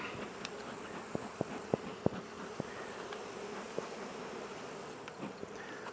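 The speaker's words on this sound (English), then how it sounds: "It's a busy hive." Steady, dense buzzing of many honeybees at an open, busy beehive during an inspection, heard close and continuous, with a few sharp knocks and clicks from frames and tools scattered through it.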